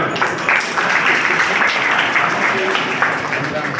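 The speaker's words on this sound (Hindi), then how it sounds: "तालियां बजाएं" Audience applause at a community talent award ceremony in Nagaur, loud, continuous clapping from a crowd with a few voices mixed into the background.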